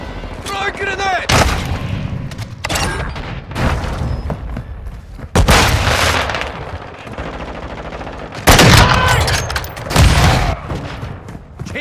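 Video game firefight with grenade blasts and gunfire: rapid machine-gun bursts and heavy booming explosions, loud and close, with voices shouting between shots.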